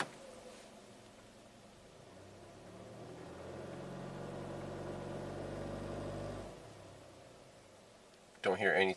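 A 2016 Hyundai Sonata engine in limp mode with code P1326 runs under load, a low steady hum rising in the middle and then easing off, ending with a brief burst of noise.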